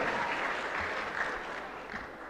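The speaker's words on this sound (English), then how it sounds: "a bigger round of applause for all our contestants" Sustained applause from an audience cheering the contestants at the grand finale of a national public speaking competition, steady and dense throughout without a break.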